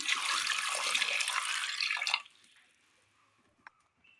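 Water pours steadily into a pressure cooker holding pieces of yam, a close, continuous splashing for about two seconds that then stops, leaving a quiet room with a faint clink.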